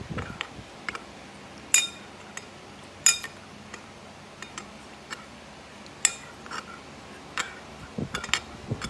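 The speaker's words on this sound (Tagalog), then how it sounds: "ilagay natin yung cornstarch dito, halo lang natin" A spoon stirring cornstarch into a pot makes sharp, irregular metallic clinks and taps against the sides, spaced out over several seconds, close and without talking.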